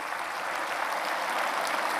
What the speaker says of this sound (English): may we also please have a huge round of applause for the Gagan Yatris who are here with us on the dais